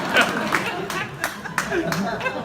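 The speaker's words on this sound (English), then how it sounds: "don't try and get me off with a round of applause" A comedy-club audience in Portsmouth claps in a loose, scattered round of applause, fairly close and moderate in loudness, with some chuckling mixed in.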